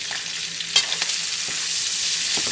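Cabbage stir-fried into pansit bihon rice noodles with bell pepper, a steady sizzle close by with several quick scraping stirs of a spatula, no voices.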